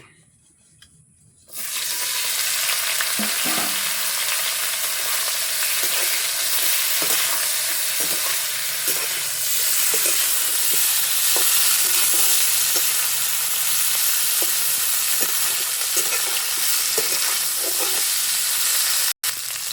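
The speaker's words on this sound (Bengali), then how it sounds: "গরম হয়ে গেছে আর মাছটা অল্প করে ভেজে নেব।" Small fish, including koi, frying in hot oil in a wok: after a quiet moment, a loud, dense, steady sizzle kicks in and continues for the rest, with faint clinks beneath and no talking.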